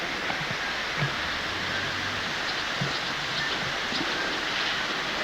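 A waterfall at Glacier National Park, Idaho area: steady broadband rushing roar, constant and fairly loud, with faint distant voices underneath.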